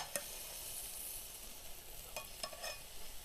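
Tomato curry sizzles steadily in a pan as its water boils away and it begins to catch, with a soft continuous hiss and a few brief clicks and scrapes near the end.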